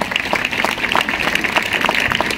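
Audience applause after an acrobatics and basketball demonstration on a playground, dense steady clapping from a crowd lasting throughout, fairly loud and continuous with no break.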